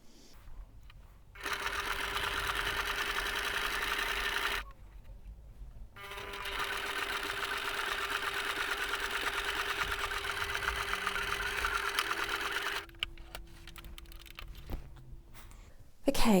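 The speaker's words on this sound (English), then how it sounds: "that has done all the sewing for that one bag" A sewing machine stitches a Christmas Eve drawstring bag, humming steadily in two long runs separated by a brief pause, then stopping near the end as a quieter whine lingers; no talking over it.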